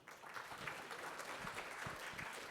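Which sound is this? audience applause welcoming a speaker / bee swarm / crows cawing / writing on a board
audience applause welcoming a speaker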